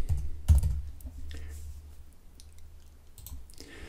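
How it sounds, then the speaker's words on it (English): Keys tapped on a computer keyboard while entering a search keyword in Photoshop Elements 2020, a short run of soft, close clicks with a few louder taps; no speech. "and then type another keyword"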